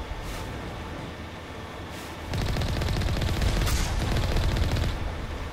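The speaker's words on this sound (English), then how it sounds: "Except a Geth Heavy turret." A Geth Heavy turret in Mass Effect opens fire with a dense, continuous burst of loud rapid shots that starts partway through after a quieter stretch of game noise.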